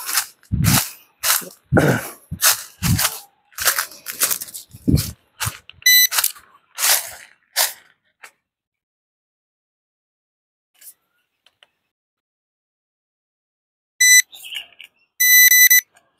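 A handheld metal detector pinpointer emits short electronic beep bursts while searching for gold at a sacred grave site, with quieter clicks and handling sounds before it and long near-silent gaps.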